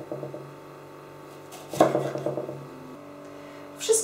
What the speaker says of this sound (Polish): Pomidory kroję w ósemki.